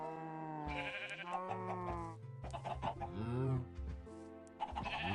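Minecraft chickens cluck in a busy game soundscape, with repeated pitched clucks and bleating-like animal calls layered loudly together over several seconds.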